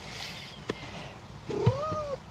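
A male pet cat gives a single drawn-out meow midway through, fairly close, over a quiet room with a few soft knocks.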